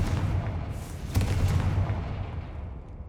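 A Confringo fire spell exploding in the Hogwarts Legacy video game, a loud booming blast that rumbles and fades over a few seconds with a heavy low-end tail.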